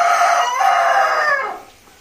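A rooster crows once, loud and close, a drawn-out strained call that holds for over a second before trailing off, with no other sounds around it.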